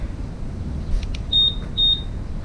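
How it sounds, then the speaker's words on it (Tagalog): Honda PCX 160 scooter anti-theft alarm buzzer giving two short electronic beeps after a couple of faint clicks, close and fairly loud against a quiet background. "naririnig nyo yung beep sound, lumalakas, humihina."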